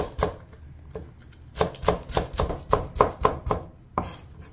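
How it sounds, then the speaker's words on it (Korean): A knife thinly slices onion and cheongyang chili peppers on a cutting board, about a dozen crisp, close chops in a quick regular rhythm with a short pause partway through. "양파를 두껍게 썰지 마시고 얇게 청양고추 좀"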